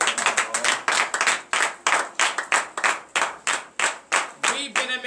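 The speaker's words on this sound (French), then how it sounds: "je vous prie encore d'acclamer très fort ce grand Dieu" A congregation at a Saturday morning prayer service in Benin clapping loudly and fast in an irregular rhythm, applauding and acclaiming God, with voices calling out beneath the claps.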